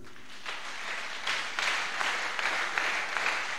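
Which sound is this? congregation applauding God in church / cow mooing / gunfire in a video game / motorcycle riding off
congregation applauding God in church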